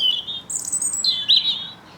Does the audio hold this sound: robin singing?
yes